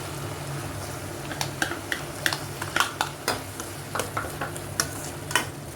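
Carrots cooking in tomato paste in a pan, a steady soft sizzle and bubbling under sharp, repeated clicks and scrapes of a utensil stirring against the pan; no talking.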